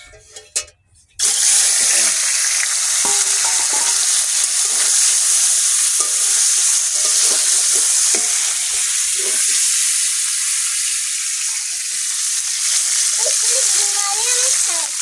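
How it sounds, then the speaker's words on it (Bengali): Fish pieces sizzling loudly in hot oil in a pan while cooking a sour okra fish curry, a sudden burst into a steady dense hiss that continues throughout, close and without talk. "মাছগুলো দিয়ে দিচ্ছি।"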